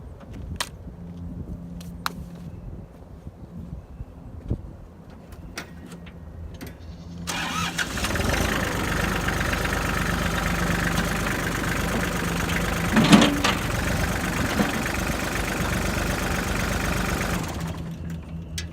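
A farm tractor's engine cranks and catches partway through, then settles into a steady, rumbling idle for about ten seconds before cutting off, after a quiet stretch with a few faint knocks.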